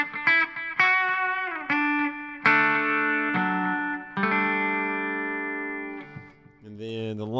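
An electric guitar through a Headrush delay effect plays a handful of separate notes and chords, each ringing out with echoing repeats trailing behind. No other sounds compete.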